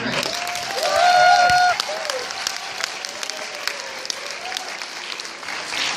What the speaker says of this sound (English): let's hear it for Andrés.